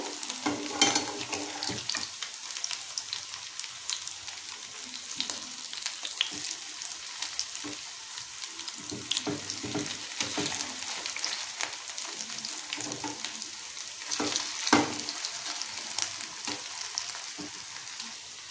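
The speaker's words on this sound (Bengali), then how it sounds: "এই যে দেখুন পিঠেগুলো কিন্তু খুব সুন্দর ভাজা হয়ে গেছে।" Cauliflower pithe, a Bengali fried cake, sizzles steadily in oil in a pan, a dense continuous crackle with occasional sharper pops, close and clear with no talking.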